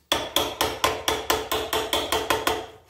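A small screwdriver taps on a fitting while a wall-hung SIAMP toilet seat is installed, giving about ten sharp, evenly spaced metallic knocks at a steady brisk rhythm, close and clear with no talking.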